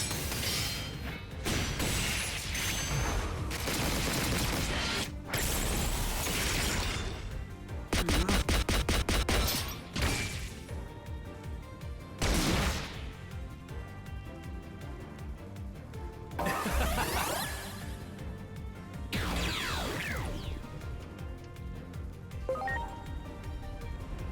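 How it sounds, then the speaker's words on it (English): Supreme Cannon attack from the Digimon Story Time Stranger video game fires as a dense run of loud, rapid blasts and booming shots layered over game music, with several sharp bursts in quick succession. "Ready to launch. Here it comes!"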